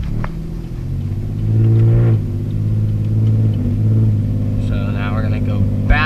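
A car accelerates through a set of corners, its engine note droning loud and close inside the cabin, climbing on each upshift and dropping back between gears, with someone talking over it.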